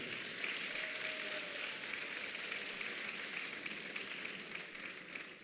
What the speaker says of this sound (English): I thought you were going to clap for that.